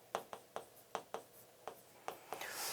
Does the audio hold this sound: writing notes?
yes